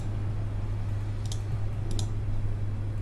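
Two crisp mouse clicks, a couple of seconds apart, attack a unit in the Hex digital card game, sounding close and quiet over a steady low electrical hum.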